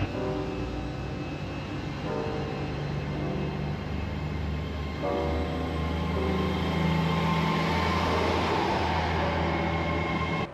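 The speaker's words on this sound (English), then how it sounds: "I spotted a few trains passing by, especially the Class 800s intercity trains." A Class 800 intercity train rumbles past steadily in rain in Cornwall, with a droning engine hum and a hiss of rain or wind, loud and sustained throughout.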